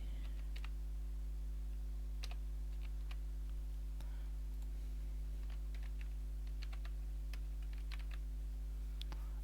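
Fingers tap on a keyboard in irregular bursts of light clicks while an online registration form is filled in, over a steady low electrical hum.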